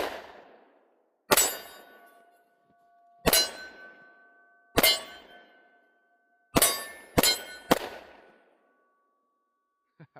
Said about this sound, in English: let's do some more shooting with it